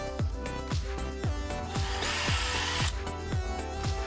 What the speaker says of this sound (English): I pre-drilled the holes first.